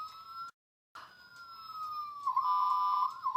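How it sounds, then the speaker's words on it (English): A toy ambulance's button-activated siren wails in a wavering electronic tone, cutting out briefly near the start before resuming, rising, and warbling steadily close by. "And that is the sound of the ambulance."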